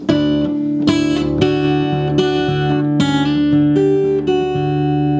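Strummed guitar chords ring out clearly in a slow progression, each chord changing about every half second to second, loud and close, with no talking.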